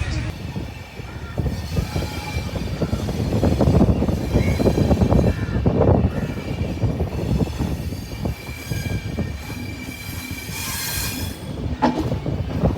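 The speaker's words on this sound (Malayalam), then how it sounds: "കന്യാകുമാരിയിൽ നിന്ന് ട്രെയിൻ എടുക്കുമ്പോൾ തന്നെ നല്ല വലിയൊരു വളവ് കഴിഞ്ഞിട്ടാണ് വണ്ടി സ്പീഡ് എടുത്ത് കൊടുക്കുന്നത്" The Himsagar Express rumbles along the rails leaving Kanniyakumari, its wheels squealing steadily as it rounds a large curve, with a faint voice under the noise.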